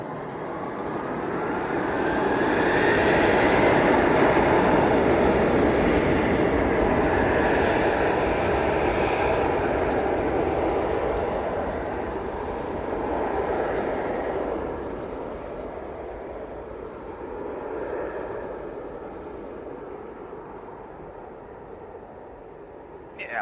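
A KLM jet departing Leeds Bradford Airport for Amsterdam: a broad engine roar swells over a few seconds, holds loud for a while, then slowly fades into the distance.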